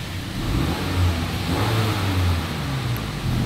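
A Honda Civic tenth generation with its exhaust in original mode idles and revs softly with a broad, steady rumble, close and continuous, no one speaking.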